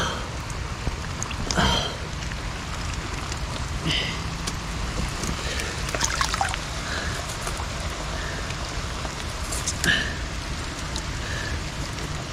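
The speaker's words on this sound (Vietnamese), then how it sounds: "Mưa giờ mưa quá lạnh luôn." Steady rain falls outdoors during a storm by a roof being laid for snakehead fishing, a dense even hiss of drops on surfaces with a few brief louder patters and no talk.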